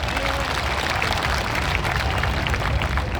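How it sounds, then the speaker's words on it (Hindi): An audience at a Vijay Diwas event in India claps together in a steady, dense wash of applause that holds at an even, fairly loud level from start to finish. "एक बार आप सब मिलकर अपने लिए ताली बजाएं, अपने देशवासियों के लिए बहुत सारी ताली बजाएं"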